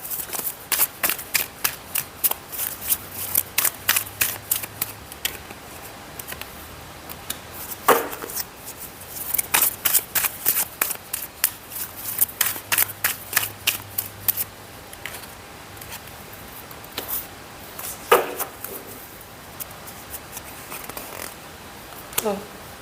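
Tarot cards being shuffled by hand in quick riffling bursts of crisp snapping flutters, close and fairly loud, separated by short pauses, with no talking.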